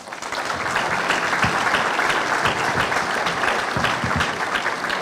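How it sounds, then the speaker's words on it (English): Steady, dense applause from an audience at a high school ribbon cutting ceremony, a loud continuous wash of many hands clapping that holds evenly for several seconds. "Let's give them all a round of applause"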